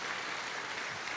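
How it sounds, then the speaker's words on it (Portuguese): Congregation applause during a Sunday morning church service, a steady, even wash of many hands clapping at moderate level throughout, with no speech standing out. "Vamos aplaudir a vida dele?"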